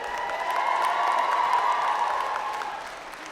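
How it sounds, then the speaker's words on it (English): A large audience at a university convocation ceremony applauding steadily, a dense, even wash of clapping that holds for about three seconds before beginning to fade. "reciprocate by applauding your family, friends, faculty, and staff, and all those who helped you to reach your goal"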